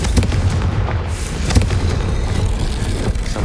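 A Confringo spell explosion in the video game Hogwarts Legacy, a loud, dense burst of booming blasts with crackling, sustained over several seconds and filling the mix without voices.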